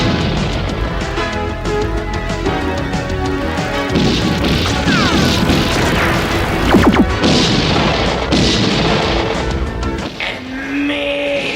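An 1980s action film bar fight erupts in gunfire, with repeated sharp bangs and crashing impacts layered over a dense synth score, loud and busy throughout.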